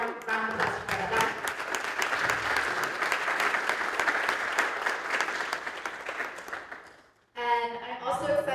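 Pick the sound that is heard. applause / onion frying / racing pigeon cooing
applause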